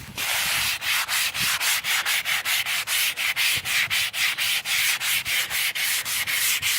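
Rapid back-and-forth sanding strokes rasp against a wooden kids' swing in a steady, quick rhythm, close and scratchy, with no talking.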